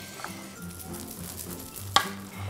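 Spoon or paddle working through cooked rice mixed with seasoned rice vinegar, soft moist stirring and scraping at close range with one sharper clack near the end.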